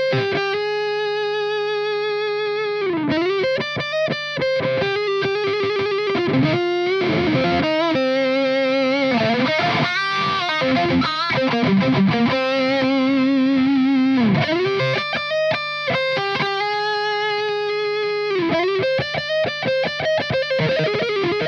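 A Jet JL-500 Les Paul copy electric guitar played through heavy distortion, sustained notes and bends with short choppy riffs in between, loud and up close with no talking.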